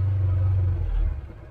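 An engine that has just cranked up settles into a loud, steady low rumble close by, then eases off and fades toward the end, with no talking over it.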